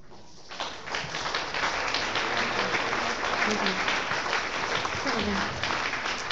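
Audience applause after a story at a climate justice tribunal in Central Appalachia: a dense, even patter of many hands that starts abruptly and holds steady at moderate loudness, with voices murmuring underneath.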